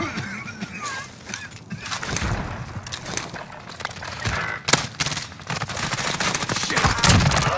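Gunfire in a battle royale video game, scattered shots and bursts over a busy mix of game effects, moderately loud, with a louder crack partway through.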